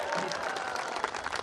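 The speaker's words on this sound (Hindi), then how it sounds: "एक बार जोरदार तालियां रमेश चाचा के लिए।" Audience at a Holi-season fools' gathering (Murkh Sammelan) in Maharaj Bada claps for Ramesh Chacha, a dense, steady wash of applause with crowd murmur mixed in across the short stretch.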